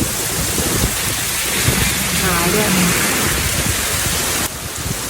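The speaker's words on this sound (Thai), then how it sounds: "ไม่เคยเห็นฝนตกหนักขนาดนี้มาก่อนเลย" Heavy summer-storm rain pours in Cologne as a dense, steady roar of downpour, with low thunder rumbling underneath and a voice speaking briefly over it.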